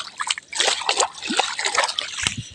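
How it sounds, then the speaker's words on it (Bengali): Hands washed under running water, with uneven splashing, trickling and sloshing close by as the hands rub and move through the stream. "আমি হাতটা ধুয়ে নিই ভালো করে"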